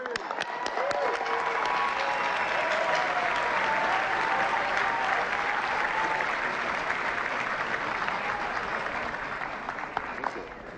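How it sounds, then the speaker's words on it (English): Steady applause from a large crowd at the 2016 White House Correspondents' Dinner fills the whole stretch, dense and sustained, gradually easing slightly toward the end. "Thanks for keeping that applause going all the way, too."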